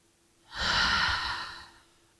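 A single deep breath in a post-mastectomy range-of-motion exercise: a slow, close inhale swelling into a long, airy exhale that fades out, with no talking.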